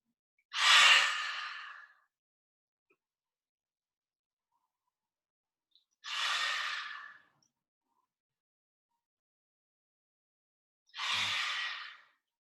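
Three slow, deep exhalations during a seated chair yoga sun salute, each a soft breathy sigh lasting over a second, spaced about five seconds apart with near silence between, close and alone.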